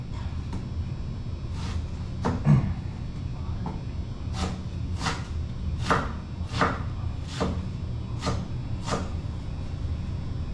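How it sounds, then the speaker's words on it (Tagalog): Knife chopping eggplant and onions on a cutting board: a run of sharp, evenly spaced chops, close and clear over a low background hum, with no talk. "Hinhiwain lang po natin itong mga kaloko yung ating mga ingredients"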